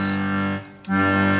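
Accordion tones sustain steadily, dip briefly, then return as the player moves up one button to the next note. The reedy chord is close and loud, with no talking.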